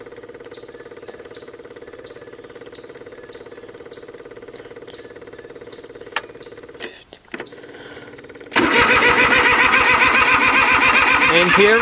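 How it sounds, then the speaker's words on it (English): A Cub Cadet 1512 garden tractor engine cold starts after glow plugs are heated: a series of evenly spaced clicks and a short cranking burst, then the engine catches and runs loud and steady to the end. "I'm gonna hit the glow plugs for roughly 15 seconds and start her up."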